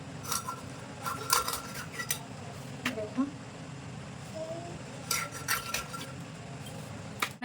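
A large boal fish being cut into ring pieces with a knife, scattered clinks and sharp metallic taps against a pot or tray under steady background hum while someone talks nearby.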